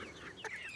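Dual-purpose homestead chickens cluck softly, a few short calls close by against a quiet outdoor background.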